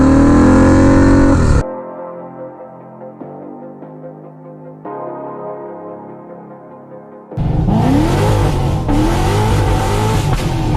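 Turbocharged Harley-Davidson V-Rod Night Rod running 5 PSI of boost, loud and close: a hard pull, a drop to a quieter lower-pitched drone through the gear change, then a renewed rising roar as the engine revs climb again.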